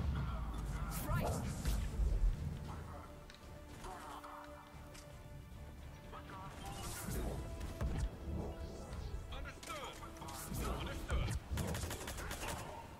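Pistol fire in Mass Effect Legendary Edition on Insanity difficulty, sharp shots in bursts spread across the clip, mixed with other combat impacts while people talk over the action.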